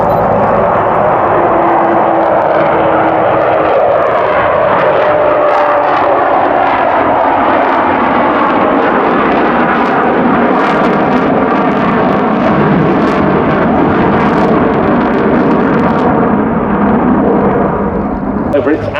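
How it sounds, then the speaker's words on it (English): A Curtiss P-40B fighter with an Allison engine flies past at a Duxford air show, its loud, continuous propeller-engine roar rising and shifting in pitch as it passes, with an announcer talking over it. "Over the threshold then, Dave Southwood in the Fighter Collection's P-40B"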